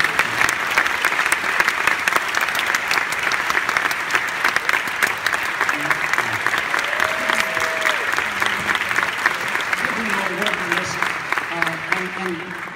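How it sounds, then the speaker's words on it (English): Loud, sustained applause from a crowd at the 53rd New York Film Festival fills the whole stretch, with a few brief voices rising faintly underneath near the end. "Give them a round of applause."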